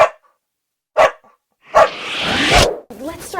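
A police K-9 dog gives a few short barks and whimpers close by, separated by brief silences and ending with a longer yelping sound.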